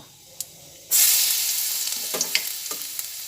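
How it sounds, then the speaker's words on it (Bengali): Chopped garlic hits hot oil that already holds panch phoron for a spicy beans dish. After a quiet moment a loud sizzle bursts in, then settles into a steady close hiss with small scattered pops. "রসুনটা ভালোভাবে তেলের মধ্যে ভেজে নিচ্ছি"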